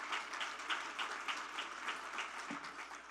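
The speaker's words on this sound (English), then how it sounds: "give yourself a round of applause for just being here" An audience at an LGBTI leadership conference claps in a sustained, even round of applause. The crowd sounds distant and fairly faint.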